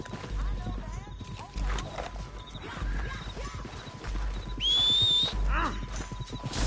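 Horses in the video game Red Dead Redemption 2, with hoof clip-clops, snorts and a whinny over game ambience, a sharp whistle near the end, and a voice speaking intermittently.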